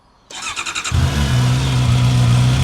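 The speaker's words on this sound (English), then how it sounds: "this is cold start on the CB650R" A Honda CB650R motorcycle engine cold starts, cranking with a rapid starter whir, then catches and settles into a loud, steady, throaty idle.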